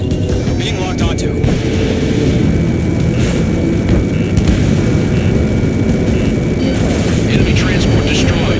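An enemy transport blows up in an Ace Combat 7 air battle, a heavy boom folded into the constant roar of jet engines, with voices calling out over the din.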